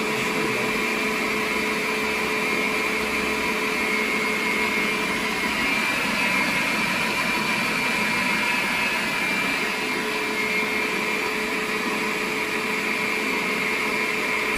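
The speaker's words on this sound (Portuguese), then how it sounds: "Aí vamos ligar a batedeira." An electric stand mixer running in a home kitchen, a steady continuous motor whir with a constant pitch and even level, loud and close, with no talk.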